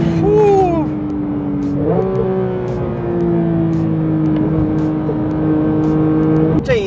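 A Porsche 992 GT3 with its 4.0-litre naturally aspirated flat-six revs loudly and close by, the pitch climbing, dipping, then holding at a steady high whine before a final blip.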